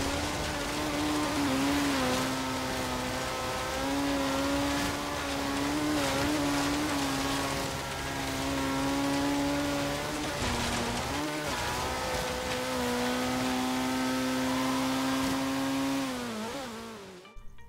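A Group B Ford rally car on a hot lap in Forza Horizon 3, its engine screaming at high revs in a continuous loud whine that dips briefly at each gear change and corner before climbing again, with no talk.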